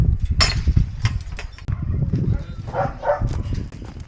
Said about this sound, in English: Are you barking at us?